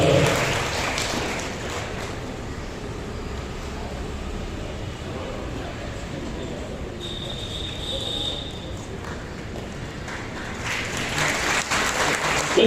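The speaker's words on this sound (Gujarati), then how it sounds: "તાળીઓનો ગળગડાટ કેમ ઓછું થઈ ગયું છે?" An audience at a school Republic Day celebration applauds steadily, a dense wash of clapping that runs the whole time at a fairly even level, swelling slightly toward the end.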